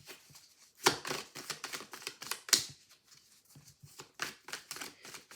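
Tarot cards are shuffled by hand in quick, crisp riffles and slaps, irregular bursts up close at moderate loudness, with no talk over them.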